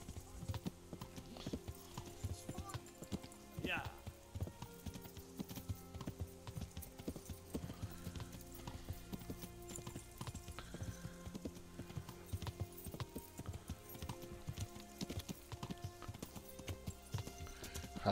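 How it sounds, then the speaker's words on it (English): Horse hooves clip-clopping in the medieval role-playing game Kingdom Come: Deliverance, a steady trotting rhythm near the listener with a short whinny early on, layered over a continuous game soundtrack and ambience. "And that's Sir Radzig's horse"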